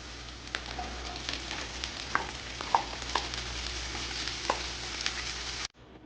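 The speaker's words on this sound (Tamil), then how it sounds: "இப்போ கோவக்காவை நல்லா வதக்கிடுங்க." Ivy gourd tossed with onions in a hot pan gives a steady, close sizzle broken by scattered stirring scrapes and taps, then cuts off abruptly near the end.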